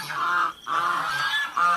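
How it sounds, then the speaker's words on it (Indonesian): A young angsa keling goose gives three loud, nasal honks in quick succession, close by, each held for a moment with short pauses between. "Sedangkan ini adalah sudah anakannya, suaranya pun tidak sebisa seperti yang saya harapkan seperti induknya tersebut."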